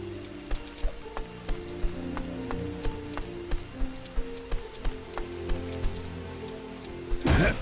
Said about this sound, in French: La pluie est pas visible mais on l'entend bien